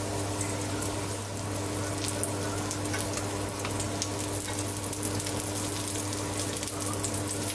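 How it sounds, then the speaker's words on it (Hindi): Shami kebabs fry in oil in a pan, giving a steady, dense sizzle throughout, with a continuous low hum running beneath it and no voices. "अब हम इनको फ्राई कर लेंगे।"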